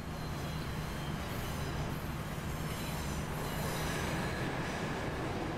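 A Pendolino train pulled by a class 67 locomotive in Transport Fever 2 rolls along with a continuous steady rumble and faint high squeal, loud and unbroken throughout.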